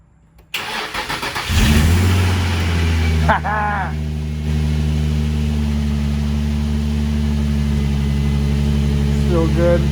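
Car engine cranking and catching, then settling into a steady loud idle with a revving rise early on, close by, with a voice talking briefly over it.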